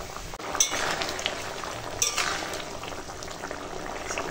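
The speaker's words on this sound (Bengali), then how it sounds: "ঝোলে জাল উঠে গেছে" A fish and taro curry gravy boils steadily in the pot, a continuous bubbling hiss broken by a couple of light metallic clinks.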